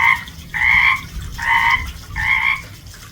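Frogs croak in a pond at night in the Pacific Northwest, four loud, evenly spaced bursts close by over a low background hum.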